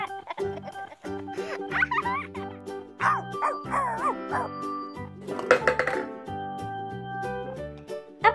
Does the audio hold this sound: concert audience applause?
no